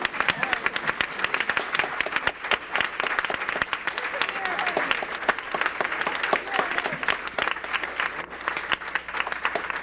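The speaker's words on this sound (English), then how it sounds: "Let's stand one more time and give Jim and Shirley Kruger an applause" A banquet audience at a 1980 Amway event gives a standing ovation, with steady, dense clapping throughout, fairly distant and even, with no talk.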